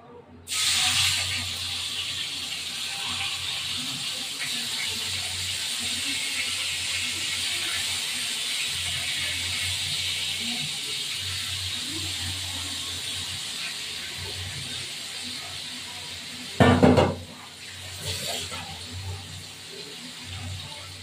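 Rohu fish frying in hot oil for a thin curry, with a loud, steady spitting hiss running throughout, a sharp crackling surge near the end, and softer sizzling afterward.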